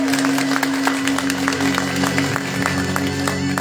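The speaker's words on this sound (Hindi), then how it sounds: "वास्तव में सुदामा जी के लिए तालियां जोरदार हो जाए।" A close audience claps steadily throughout a Shrimad Bhagwat Katha gathering in Bikaner, the dense applause sitting over a sustained low musical drone with a few sharper claps poking through.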